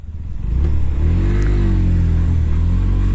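A Hero Glamour X 125cc motorcycle engine running on a ride, a close, loud, steady low rumble that rises in pitch as it revs and pulls away, with no voices.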